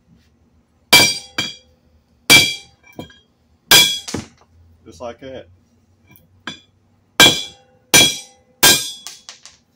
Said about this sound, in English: Big old hammer.